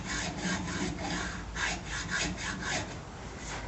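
A saw blade cuts a groove into a 1965 Mustang rear valence extension near bondo, making a dry, raspy back-and-forth rubbing in steady strokes, close and moderately loud, with no talk.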